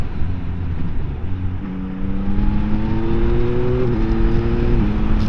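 A 2024 Yamaha XSR900 GP motorcycle pulls along a sunny open road, its engine note climbing steadily under acceleration before dropping sharply at a gear change and then rising again, loud and close throughout.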